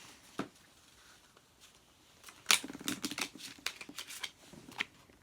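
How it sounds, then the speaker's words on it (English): A deck of playing cards being shuffled by hand during a pick-a-card trick, heard as a close, quiet run of crisp riffling and flicking bursts that start faint and grow busier toward the end, with no talk. "You can shuffle it up."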